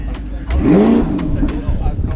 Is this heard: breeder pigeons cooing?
no